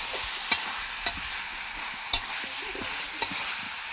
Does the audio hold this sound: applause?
no